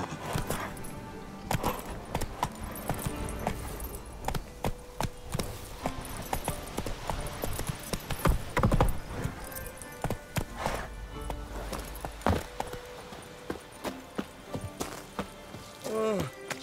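Horse hooves clatter in The Witcher 3: Blood & Wine, a rhythmic clip-clop that runs through the whole stretch amid game music and effects, with a voice speaking briefly.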